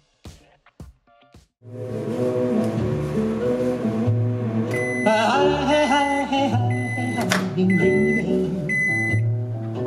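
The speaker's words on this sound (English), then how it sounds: "The second way is to put a bowl of water in a microwave." Brief clicks and knocks, then a loud steady droning hum with a layered mechanical tone that runs on without a break.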